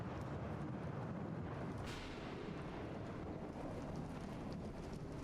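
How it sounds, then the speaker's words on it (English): Thunder from lightning in Bendy and the Dark Revival rolls as a loud, steady low rumble over wind and rain noise, filling the whole stretch without pauses. "I just got jump scared by lightning."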